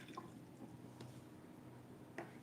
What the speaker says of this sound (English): And just clean your brush.